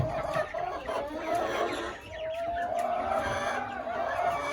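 Young broiler chicks chirp and cluck in a cage, a steady overlapping chatter of small birds close by, with a few louder peeps rising above the constant flock noise.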